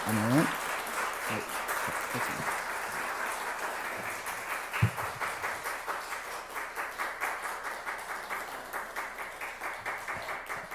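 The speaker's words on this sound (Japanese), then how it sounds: "盛大な拍手でお迎えください" A church congregation breaks into sustained applause to welcome a pastor at a Sunday worship service, steady clapping that gradually settles into a rhythmic, fading beat, with brief voices near the start.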